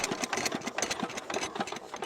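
An engine running close by in a rural Punjabi village setting, a rapid, busy mechanical chatter with a steady pulsing rhythm, moderately quiet and heard without talk over it.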